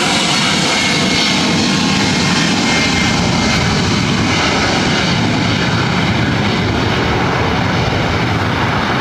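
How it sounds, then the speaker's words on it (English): A Southwest Airlines Boeing 737 MAX 8 jet takes off at LAX, its engines roaring loud and constant, a dense broadband rush filling the whole stretch without a break. "This is Southwest Airlines 3659 taking off to Chicago Midway on a MAX 8"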